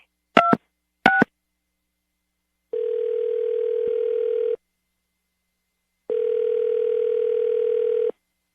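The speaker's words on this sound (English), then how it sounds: "we'll call him right now and see if we can get him on the phone" A telephone dials a number with two short tone beeps, followed by two long, steady ringback tones separated by silence, clear and close with no voices.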